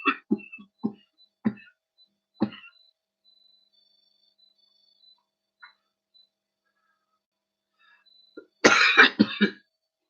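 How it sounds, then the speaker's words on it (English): A series of short, sharp coughs sounds at first, then a long silence, and finally a louder, harsher fit of coughing and throat clearing close to the mic. "Sorry about the coughing."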